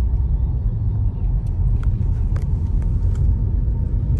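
A car travels slowly along a narrow, quiet road, its engine and tyres making a low, continuous rumble close by, with a few faint clicks and rattles inside the cabin.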